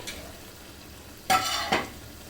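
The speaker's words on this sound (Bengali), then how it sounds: "এই দেখুন সুন্দর মতন সেমাইটা কিন্তু ভাজা হয়ে যাচ্ছে" Lachha semai vermicelli frying in oil for an Eid sweet, with two short sizzling bursts as the strands are stirred in the pan, otherwise a quiet low background.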